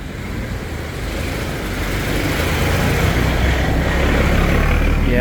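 A decorated dump truck fitted with mirrors and lights rumbles past close by on Soi 39 in Bangkok, its broad engine and road roar swelling and then staying loud and continuous among the street traffic.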